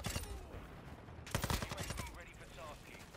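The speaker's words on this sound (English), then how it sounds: "Are you shooting at me with your P90?" Rapid bursts of P90 gunfire in the video game Call of Duty Modern Warfare 2, fairly faint, with a dense volley in the middle.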